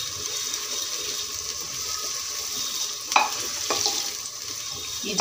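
Potatoes and spring onions frying in a pan give a steady, close hiss of sizzling, broken by a couple of sharp stirring clacks in the later seconds.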